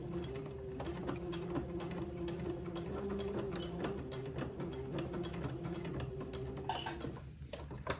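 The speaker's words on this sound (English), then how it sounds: "So just back and forth with a few little stitches." A sewing machine stitches back and forth in a steady mechanical whir with rapid needle ticking while tacking a garment placket on a children's bishop-style dress, close and continuous, slowing and stopping near the end.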